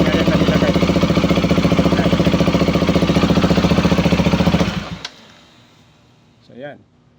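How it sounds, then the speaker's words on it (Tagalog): A KTM Duke 200 idles from a cold start with a newly fitted radiator fan spinning. A steady, even mechanical hum runs for about five seconds, then cuts out, leaving quiet with a brief voice near the end. "Pero umikot na diretso yung fan."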